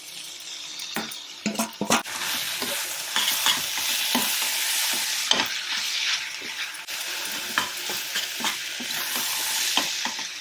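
Shredded shark fish being stir-fried with onion masala in a pan, with continuous sizzling and repeated scraping and clacking of the utensil against the pan, loud and close, with no talking.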